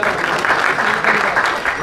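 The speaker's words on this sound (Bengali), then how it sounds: "সৌরভ সুমেন একবার জোরে হাততালি হয়ে যাক" An audience claps loudly at a pigeon club prize distribution ceremony, a dense, sustained burst of applause filling the whole moment.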